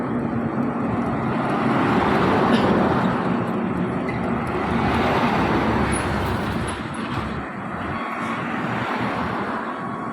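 Hino and Mercedes trucks driving and overtaking on a road, their loud, steady engine drone and broad road rumble swelling and easing as they pass.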